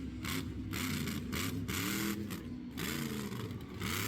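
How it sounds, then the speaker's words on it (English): A monster truck engine with open header pipes roars and revs in repeated surges at a county fair freestyle run, loud and throaty with brief dips between bursts. "You can really hear those open header pipes just making music, and it is music to my ears."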